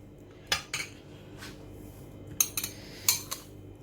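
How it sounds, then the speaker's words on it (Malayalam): A spoon clinks against a glass or bowl as sugar is spooned into juice, giving several sharp metallic taps in small clusters, close by and fairly quiet. "4 ടേബിൾ സ്പൂണ് പഞ്ചസാര ഞാനിപ്പോൾ ഇട്ട് കൊടുക്കുന്നുണ്ട്"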